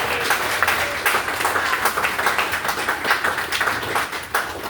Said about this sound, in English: give Kathy a nice round of applause for that